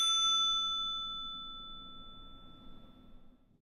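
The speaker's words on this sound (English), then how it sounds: "simply adjust the position so the arm is well aligned to hit the bell." A single strike of a bicycle bell mounted on a Gama Bike handlebar gives a bright ding that rings on and slowly fades over a few seconds. It sounds close and stands alone.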